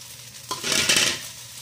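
Shrimp and squid are stirred together in a hot pan for seafood fried rice, making a brief burst of loud, close sizzling with a spatula scrape that swells and then fades.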